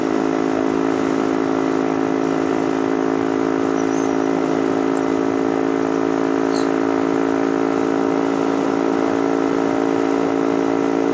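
A Yamasaki YM50 motorcycle engine fitted with a racing camshaft holds a steady, loud, buzzy drone at a constant pitch throughout, close to the listener, with no speech.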